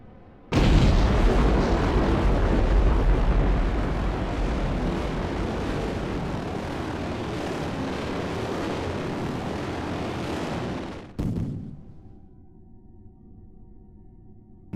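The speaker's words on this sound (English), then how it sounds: "Fire the retro pack." Retro pack rocket motor firing in a spaceflight game, a loud steady roar that holds for about ten seconds, cuts off abruptly, then drops to a faint low hum.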